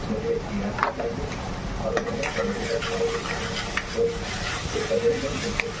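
Masala sizzles steadily as it fries in oil in a pan, with occasional louder crackles and stirring scrapes throughout, loud and close with no talking.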